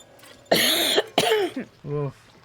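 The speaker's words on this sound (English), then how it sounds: "the reason why I'm coughing is because I also helped out at my aunt's garage sale" A person coughs and clears the throat in a few harsh, close bursts, followed by a short voiced grunt.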